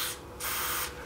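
DeoxIT D5 contact cleaner sprayed into a switch on an M&S System MC302 remote station, heard as two short, close hissing bursts separated by a brief pause.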